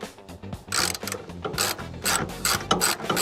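Ratchet wrench clicking in quick bursts while backing a bolt out of a Kubota tractor light, several close, sharp runs of pawl clicks separated by brief pauses.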